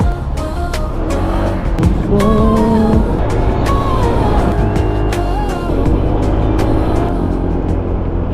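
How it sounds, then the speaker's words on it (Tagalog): Busy road traffic on the Marilaque highway, engines droning steadily with several cars passing close, rising and falling whines and sharp clatters over a continuous low rumble, without speech. "Itong traffic."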